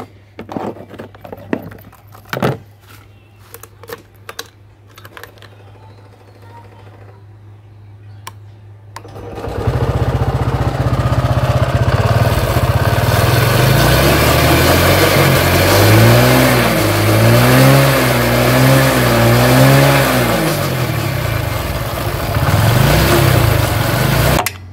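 A motorbike engine cranks and catches after some clicks and clanks, then runs loud and close for about fifteen seconds, rising and falling through several revs before settling.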